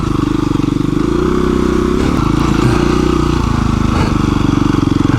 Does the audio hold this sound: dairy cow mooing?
no